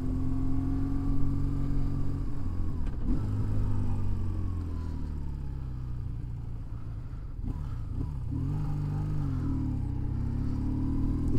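A BMW R1150GS motorcycle engine, ridden with a passenger in heavy rain, drones steadily with rising and falling revs under wind noise throughout.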